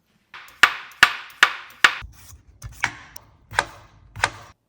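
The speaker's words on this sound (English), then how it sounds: "We're going to wash it, peel it, and then cube it and bake it in the oven until it's pretty crispy." A knife cuts through peeled potato on a board, dicing it into cubes: eight sharp, evenly spaced chops, close and crisp, with no talking.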